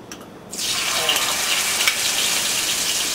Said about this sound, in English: So we're going to get that sizzling, cooking up.